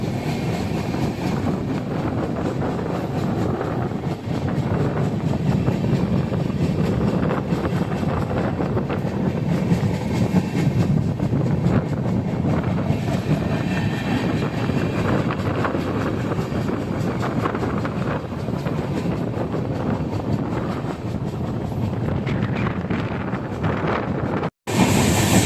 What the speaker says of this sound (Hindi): फिलहाल हमारी ट्रेन यहाँ से एक्सप्रेस भी कर रही है काफ़ी अच्छी स्पीड